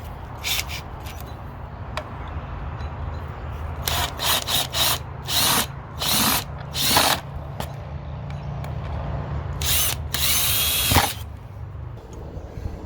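A power drill bores small pilot holes for the screws of a motion-sensor smart porch light being installed on an RV, with several short whirring bursts and then one longer burst near the end, close and loud.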